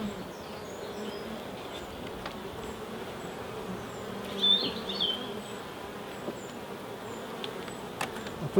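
Honey bees from a swarm colony hum around an open hive as the lid goes on, a steady, soft droning buzz with a few louder passes of individual bees close by.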